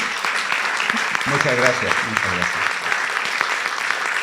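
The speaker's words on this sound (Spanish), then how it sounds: "Muchas gracias, un gran aplauso." An audience at a sinologists' congress in Santiago de Chile applauding in a steady, continuous patter, while someone briefly speaks over it partway through.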